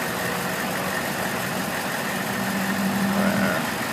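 A Kenworth W900 truck engine rumbles steadily as the truck turns a corner on a street in the USA, a continuous loud drone with a slight rise in the last second, and no talking.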